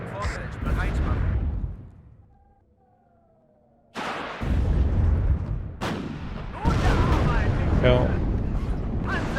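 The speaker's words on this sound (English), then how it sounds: "Ah, the artillery. Just spot on every time." Artillery fire in the video game WARNO, with heavy booming blasts and rumbling detonations that drop into a brief near silence before resuming loud, with a voice speaking over the barrage.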